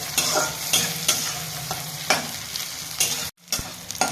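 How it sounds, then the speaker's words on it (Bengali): Onions frying in a pan with oil, a steady sizzle broken by several sharp scraping strokes of a spoon stirring, close and clear, with a brief silence near the end. "পেঁয়াজগুলো ভাজা হয়ে গেছে লাল লাল করে"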